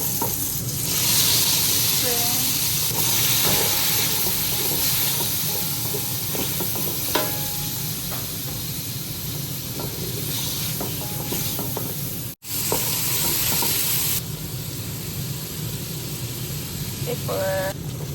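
Shrimp, frozen garlic, mushroom, salt and pepper are stir-fried in a pan for spaghetti noodles, giving a steady loud sizzle and hiss with occasional utensil scrapes and clicks, and a voice speaks faintly at times.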